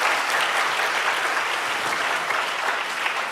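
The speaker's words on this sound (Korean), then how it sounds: "이 대목은 박수 쳐도 좋아요." An audience claps during a sermon at a Korean church all-night prayer service, dense, steady applause that fills the room at an even level from start to finish.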